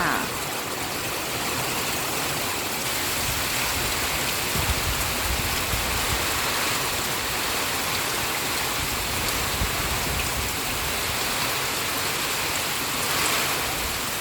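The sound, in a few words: rain and wind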